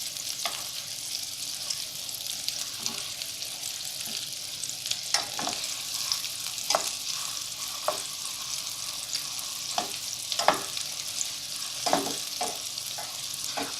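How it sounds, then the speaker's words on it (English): Meatballs browning in a pan of hot oil give a steady, bright sizzle throughout, broken by scattered louder pops and the clicks of the meatballs being turned in the pan. "You'll kind of know by the sound that the oil is making if your heat's too high or too low."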